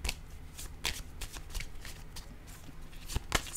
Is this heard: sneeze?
no